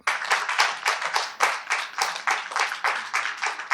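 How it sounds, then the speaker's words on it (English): A small group of people claps in a quick, slightly uneven rhythm, each clap sharp and close, continuing without pause for a few seconds. "Why are you clapping?"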